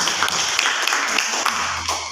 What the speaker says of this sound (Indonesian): tepuk tangan Dinda